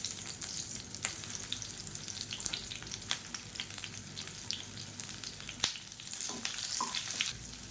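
Two large, medium-chopped onions sauté in a pan for an onion chutney, giving a steady close sizzle and crackle with sharp pops and occasional stirring scrapes throughout.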